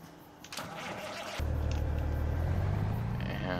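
A truck engine cranks and catches in a farming video game, then settles into a steady, loud mid-pitched running drone that continues to the end.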